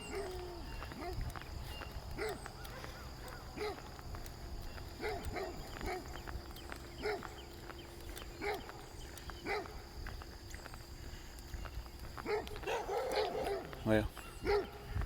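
A dog barks repeatedly in short, irregular bursts somewhere outdoors along a rural walk, faint and somewhat distant over quiet background noise.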